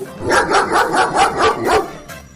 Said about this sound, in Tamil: டாமி குலைச்சு காம